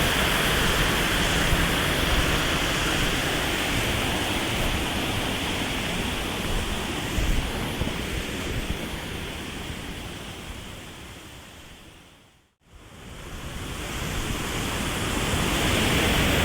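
Unda river in Klungkung, Bali, flowing as a steady, loud broadband rush that fills the whole stretch, with one brief cut near the end before the same continuous roar resumes.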